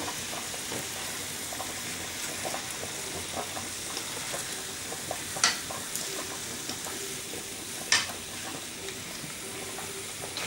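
Escalopes sizzle quietly in a pan, a steady soft frying hiss broken by a couple of sharp spits or utensil clinks, with no talking.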